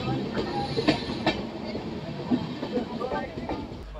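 The 12805 Janmabhoomi Superfast Express rolls along the rails with steady clickety-clack wheel beats and a constant rumble heard from inside the coach, while someone talks over it.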